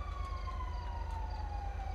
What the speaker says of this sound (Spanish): O es una patrulla de policía.